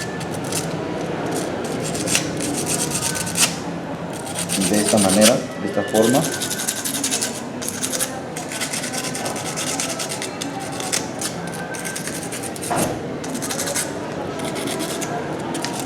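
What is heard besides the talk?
fine sandpaper rubbing spark plug electrodes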